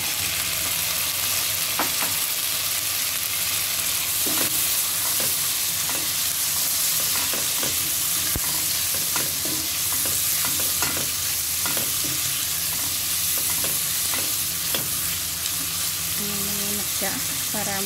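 Shrimp sizzle and fry steadily in a hot pan with garlic, with frequent scraping and clinking as a utensil stirs them, close and continuous.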